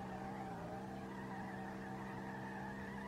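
Car tires skid steadily through a long drift in the racing game SLRR, with a continuous squeal layered over a droning engine, ending in a small jump drift. The sound is loud and unbroken throughout.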